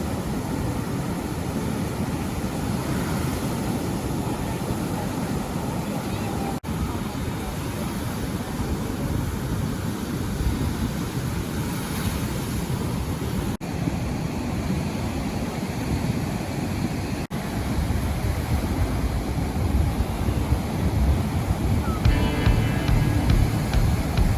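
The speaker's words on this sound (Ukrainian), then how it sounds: "послухала шум моря" Black Sea surf washing steadily onto a beach at Chornomorsk in September, a continuous broadband rush with wind buffeting the microphone, fairly loud and unbroken for the whole stretch.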